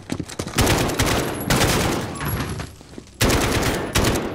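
Sustained automatic gunfire in a Call of Duty: Modern Warfare firefight, loud dense bursts of rapid shots separated by brief pauses, with no talking over it.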